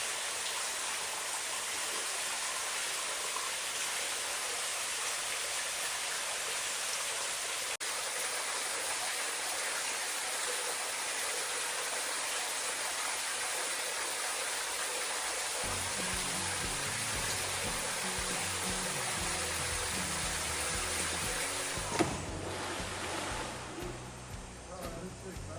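A wet-weather waterfall pours steadily into a creek after days of rain, a continuous broadband rushing of water that stays loud and close throughout, with brief talk near the end.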